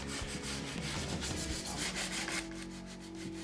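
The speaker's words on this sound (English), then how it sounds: "When you're sanding a piece like this," A wooden table is sanded by hand in steady back-and-forth rubbing strokes that sound close and continuous, with a low hum running underneath.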